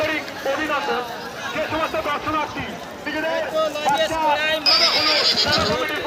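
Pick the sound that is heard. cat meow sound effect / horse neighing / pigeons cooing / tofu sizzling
horse neighing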